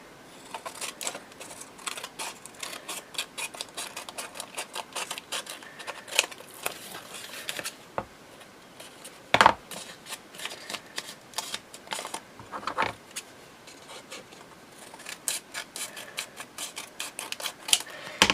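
Repeated crisp snipping and rustling of paper, close and fairly quiet, continuing in irregular bursts with no talking.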